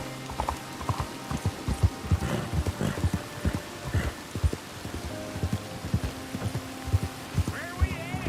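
Horse hooves in Red Dead Redemption 2 keep a steady, rhythmic clip-clop at a riding pace, close and moderately loud over a low ambient hum, with a voice speaking briefly near the end.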